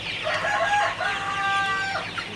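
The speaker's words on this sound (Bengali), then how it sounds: "আপনারা দেখতে পাচ্ছেন মুরগিগুলা পানি খাইতেছে" Sonali chickens in a farm shed on a hot afternoon, clucking and crowing over and over, close and fairly loud, with several birds calling at once around their water.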